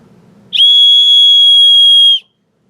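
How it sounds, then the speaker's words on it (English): An aluminum emergency whistle from a first aid kit, blown once in a single loud, piercing, sustained shrill tone lasting under two seconds, then abrupt silence. "It also has an aluminum whistle."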